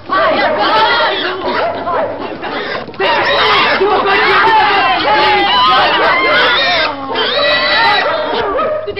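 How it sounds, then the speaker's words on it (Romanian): A pig squeals shrilly and repeatedly amid loud crowd commotion as villagers try to catch it, with overlapping shouting and chatter throughout. "Dați o mână de ajutor să prinde porcul."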